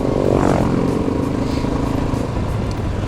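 A Honda XR650L dual sport motorcycle being ridden on a road, with a steady, loud engine drone and road rumble from close by and a slight rise in revs near the start, with no talk.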